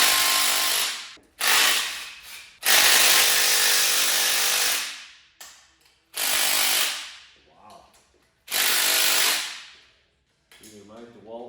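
A DeWalt power tool removing bolts from a 347 engine on a Fox Body Mustang build, heard as four loud, close bursts of whirring and rattling, each a second or two long, separated by short quiet pauses.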